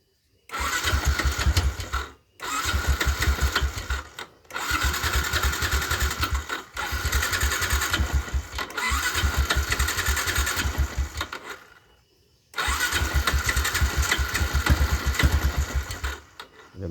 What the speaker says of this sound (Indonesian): Kita coba nyalakan dengan menggunakan electric starter